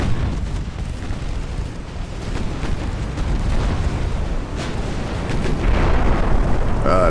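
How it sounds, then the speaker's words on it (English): Torpedo hits in Ultimate Admiral Dreadnoughts, a steady roar of naval battle with low rumbling blasts that swell louder toward the end, no talk. "give this guy one last torpedo"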